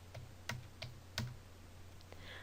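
Keystrokes on a computer keyboard while numbers are entered into a spreadsheet: a few sparse, quiet clicks in an uneven rhythm, alone with no talk.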